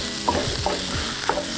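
Leftover fried rice with peas and egg stirred and chopped in a hot pan: a soft sizzle under a few quick, close scraping and tapping strokes of a utensil, with no voices.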